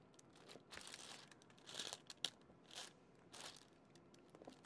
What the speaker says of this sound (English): sorry about the crinkling noises, but I don't think there's anything I can do about that unless I turn the canvas around.